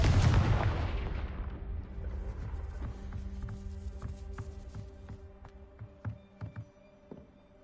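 A Confringo blasting spell from a witchcraft video game erupts in one loud, booming explosion that rumbles and decays over a couple of seconds, followed by faint scattered ticks and taps as debris settles.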